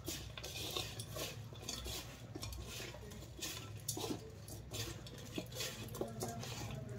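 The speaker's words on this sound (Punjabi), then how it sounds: "ਮਸਾਲਿਆਂ ਨੂੰ ਚੰਗੀ ਤਰ੍ਹਾਂ ਲਪੇਟ ਲੈਣਾ" Green chillies being stirred and turned through a roasted spice mix for masala mirchi pickle, giving steady close scraping and clinking of a utensil against a bowl, with soft rustling throughout and no talk.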